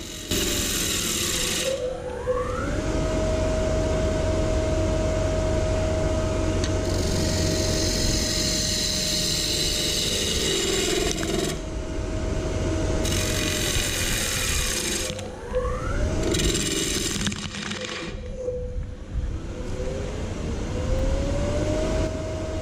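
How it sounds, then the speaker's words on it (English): A wood lathe turning a cherry bowl hums loudly, its motor pitch sliding down as it slows, then rising and falling again several times, with the tonal whine shifting over steady mechanical noise. "For some reason, I'm able to slow down and stop my lathe."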